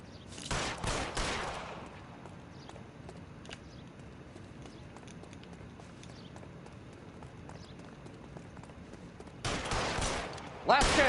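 Gunfire in the crime game L.A. Noire, with a loud burst of shots at the start, a quieter stretch of background noise, then another sharp volley near the end.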